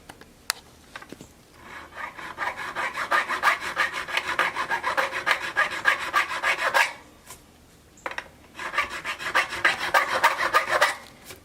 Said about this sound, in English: I'm actually going to be able to use this crowning file to level these